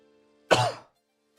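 A single short, rough cough, close and fairly quiet, alone against silence.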